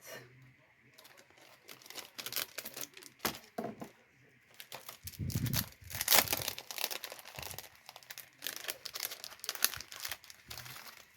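Crinkly plastic packaging of die cuts being opened during a scrapbooking session, with sharp crackles and rustles coming in irregular close bursts throughout, plus a few faint soft knocks.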